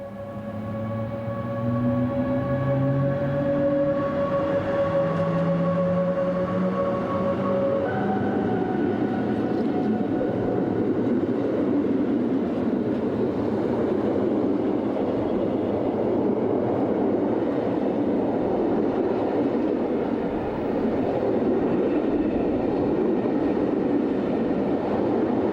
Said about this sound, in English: Locomotive number 642 departs with a 12:02 from St.Moritz to Cours.